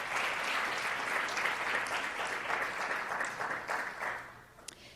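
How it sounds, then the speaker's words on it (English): Audience applause for event sponsors at a whole grains conference, steady sustained clapping from a crowd that holds evenly throughout and fades slightly near the end. "Could we have a round of applause for our sponsors?"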